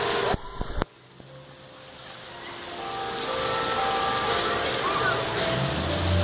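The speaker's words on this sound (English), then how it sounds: "This is a flood of epic proportions." Floodwater rushing across a flooded college campus in 2015, a steady broadband roar that swells and grows louder after a brief quieter stretch, with wind buffeting the microphone.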